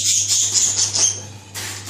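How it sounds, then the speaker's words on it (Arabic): A small lovebird parrot, female, brought in from a balcony, gives a run of high chirping calls, close and fairly loud, followed by a brief burst of rustling. "هذا الببغاء، هذا هو الببغاء"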